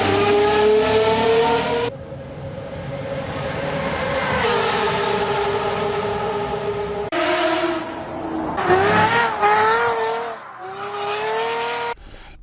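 A 650 hp Mercedes V8 with straight exhaust pipes roars loudly and close, revving up and down in repeated surges with a raspy, crackling tone and brief pauses between pulls.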